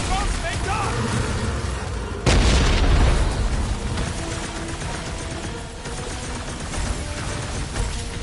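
Boom balls blowing up during a Guardians of the Galaxy game fight, with a heavy burst of explosions near the two-second mark amid dense combat noise, music and character voices talking throughout.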